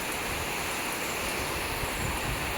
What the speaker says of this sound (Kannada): ಫುಲ್ಲು ಮಳೆ ತುಂಬ ಜೋರಾಗಿ ಹೊಡಿತಾ ಇದೆ